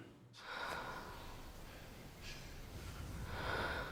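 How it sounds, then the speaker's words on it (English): Quiet, close breathing in a tense film scene, slow audible inhales and exhales with a soft snort-like draw of air and no talk. "breathing."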